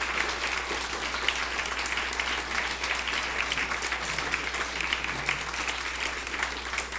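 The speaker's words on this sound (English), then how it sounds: "I know you guys can clap a little harder for our friends." At a Dalai Lama 89th birthday celebration, a large audience claps steadily, with dense, even applause filling the room from start to finish.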